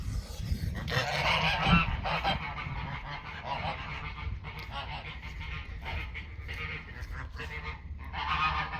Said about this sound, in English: Honk, honk, honk, honk, honk, honk.